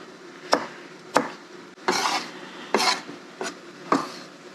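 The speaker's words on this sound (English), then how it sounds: "Do a quick julienne on the rest of this one carrot." A knife julienning a carrot on a cutting board makes six sharp chopping strikes in a loose rhythm, some with a longer scraping rasp, close and clear with no talking.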